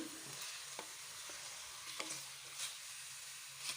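Chicken sizzles steadily in a hot pan, with occasional scraping and stirring clicks from a utensil against the pan.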